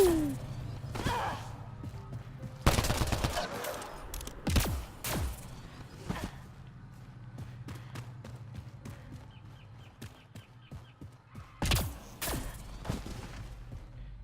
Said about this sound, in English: While you're scanning me, I will be shooting you.